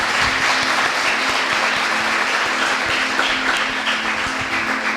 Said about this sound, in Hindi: जोरदार ताली बजाकर धन्यवाद।